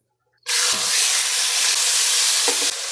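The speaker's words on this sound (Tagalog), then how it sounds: "With little oil, let's saute the ginger, garlic, onion, and chicken." Ginger, garlic, onion and chicken drop into a little hot oil and erupt into a loud, close, continuous sizzle, with a couple of brief stirring scrapes partway through.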